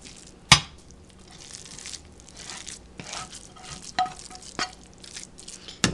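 Mexican dip mixture being mushed and spread into a 9x13 pan, with soft squelching scrapes and a few sharp knocks of a utensil against the pan, close and quiet, no talk.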